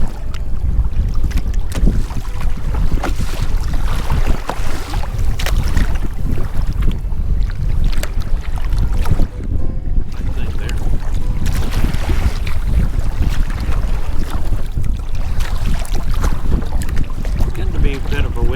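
A boat pushes through choppy waves on the Neuse River, with a steady rush of water and hull slaps under heavy wind buffeting the microphone, loud and continuous throughout.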